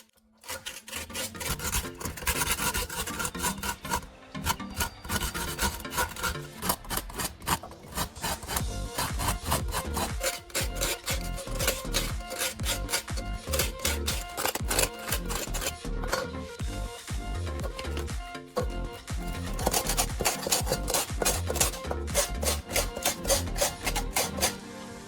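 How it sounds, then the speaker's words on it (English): Sandpaper rubs around the rim of a tin can in fast, continuous back-and-forth rasping strokes, loud and close, with brief pauses between runs. "Rub sandpaper around the rim until the surface becomes smooth."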